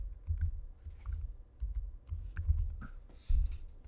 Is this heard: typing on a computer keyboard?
yes